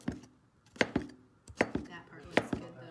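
A knife chops zucchini on a cutting board in a home kitchen, giving sharp, distinct thuds in pairs, about six or seven strokes with short pauses between them, close and clear with no talking.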